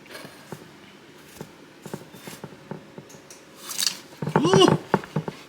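A knife cuts into a homemade roasted garlic and green onion sausage, giving soft scattered taps and a juicy squish near the end, with a person talking quietly throughout.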